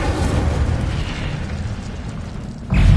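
A fiery Incendio spell bursts in the Hogwarts Legacy video game: a loud, sustained boom with a roaring crackle that thins slightly, then another heavy low blast erupts near the end.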